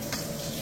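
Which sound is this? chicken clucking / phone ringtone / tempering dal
tempering dal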